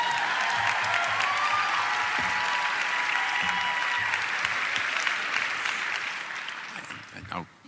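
Audience applause in a church during a sermon, a thick, steady crowd clapping that holds for several seconds then thins and dies away, with a voice speaking at the close.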